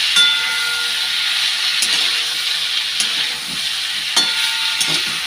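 Food fries in a hot pan with tomato, cumin and turmeric, producing a loud continuous sizzle and hiss broken by a few clinks and scrapes of stirring.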